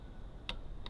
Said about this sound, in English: There's a click.